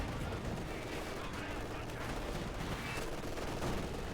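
Field gun fire in the real-time strategy game Company of Heroes 2, a faint, continuous wash of distant battle gunfire and explosions with no clear single shots standing out.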